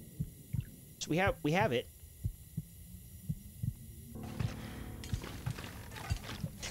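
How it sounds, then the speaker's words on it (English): Heartbeat effect in The Long Dark survival game, a steady run of low, soft thumps at an even pace, with someone speaking briefly over the start. "even though the heartbeat is kind of irritating"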